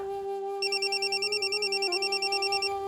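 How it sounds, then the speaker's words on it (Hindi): A telephone rings indoors with an electronic trilling tone that repeats in quick pulses, clear and moderately loud, with no talk over it. "आगा जी का फोन होगा"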